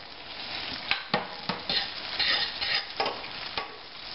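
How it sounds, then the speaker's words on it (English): Two tablespoons of butter sautéing in a pan, a bright sizzle broken by repeated scraping stir strokes at a steady pace, close and alone. "I'm also sauteing 2 tablespoons of butter for you, Paula."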